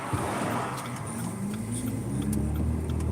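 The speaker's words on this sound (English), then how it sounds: "Where did that car go?" A car drives past at a steady, fairly close level, its low engine and road rumble holding through the whole stretch with no talk over it.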